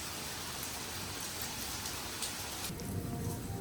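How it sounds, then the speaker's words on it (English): Steady rain falls outdoors during a Sydney thunderstorm, a dense and even hiss of drops on surfaces that carries on without a break. "so nice to have the rain"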